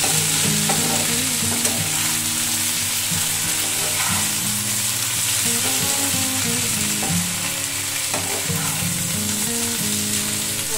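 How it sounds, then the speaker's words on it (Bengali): Tilapia pieces with cumin fry in oil in a covered pan, giving a loud, continuous sizzle and crackle with occasional stirring scrapes. It runs steadily throughout, with faint background sounds and no talking. "এবারে এটাকে আমি ভালোভাবে আবার ঢাকা চাপা দিয়ে দিয়ে ভাজা করব"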